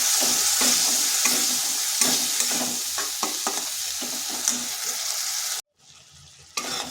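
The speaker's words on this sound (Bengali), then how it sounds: "মশলাটাকে বেশ কিছুক্ষণ কষিয়ে নিলাম" Spice masala for a cauliflower curry stir-fried in a pan crackles with a continuous loud sizzle punctuated by frequent spatula scrapes and taps, then cuts out briefly before resuming more quietly.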